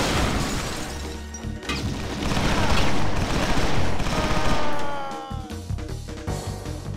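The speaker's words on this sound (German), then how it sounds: "Granate!" A grenade explosion and a barrage of gunfire in the shooter game XIII, a dense, loud roar of blasts and rapid shots that swells and rumbles, then breaks into scattered cracks and debris.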